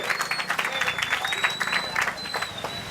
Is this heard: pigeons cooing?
no